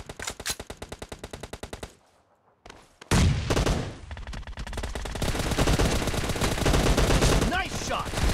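M416 assault rifle bursts in a team deathmatch shooter game, loud rapid automatic fire in repeated volleys, a short pause, then sustained dense gunfire with explosions layered over it.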